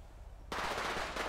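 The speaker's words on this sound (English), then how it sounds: "shot fired at officer, shot fired at officer" A gunfight breaks out in GTA V FiveM roleplay as shots are fired at a police officer: after a quiet half second, a loud, dense burst of rapid automatic gunfire fills the rest of the moment.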